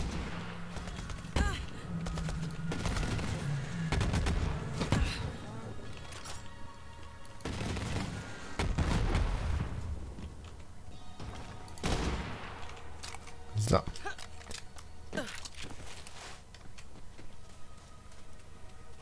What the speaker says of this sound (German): Ein Schuss sollte sie wieder in Bewegung bringen.